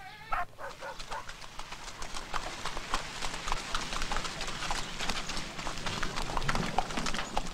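Horse hooves clip-clop steadily on a street as a horse-drawn buggy rolls across Paquetá Island in Rio de Janeiro, close and continuous, with a lively, rapid rhythm throughout.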